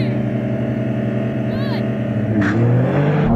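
A sports car, one of a Porsche 911 Turbo S, Nissan GTR Nismo or Honda NSX, launches hard in a drag race, a loud, continuous engine roar heard from inside the car that builds as it accelerates, with a brief voice over it.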